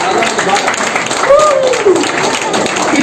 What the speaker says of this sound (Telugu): ఇంకా కొంచెం చప్పట్లు.